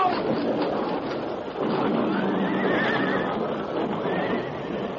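Stagecoach horses whinny and neigh in a radio drama scene on a narrow trail near a cliff edge, with hoof clatter over a dense, rumbling wash of sound effects.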